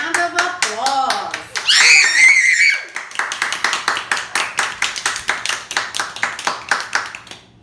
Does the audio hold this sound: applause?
yes